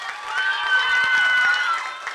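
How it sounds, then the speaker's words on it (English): An audience at a JROTC military ball breaks into applause, dense crowd clapping and cheering that rises and holds steady at close range, with voices mixed in. "give a deserving applause that this retired colonel will never ever forget"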